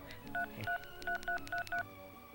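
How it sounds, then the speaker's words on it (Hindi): Six short, evenly spaced keypad tones beep as a number is dialed on a mobile phone, clear and close against a faint room background. "मेरे फोन से अपने फोन पे नंबर मिला ले, जहाँ पे फोन होगा मिल जाएगा।"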